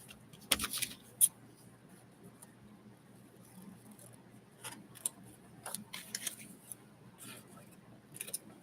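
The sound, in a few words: cutting with scissors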